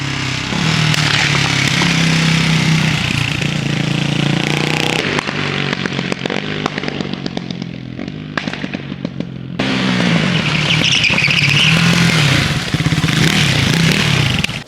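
A loud McLaren supercar engine revving hard with sharp crackling exhaust pops and bangs, the roar dipping briefly before surging again.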